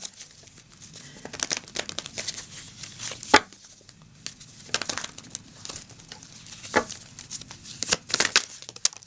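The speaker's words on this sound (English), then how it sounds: "I'm just going to shuffle the cards" Tarot cards being shuffled by hand, giving repeated crisp riffling and slapping bursts in an irregular rhythm, close and fairly quiet, with no voices.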